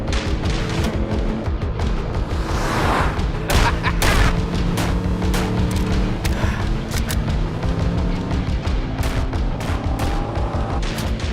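Dense, sustained gunfire in a French-dubbed action film about Atlanta gangs, rapid overlapping shots and booms over a loud chaotic mix, continuous and close throughout.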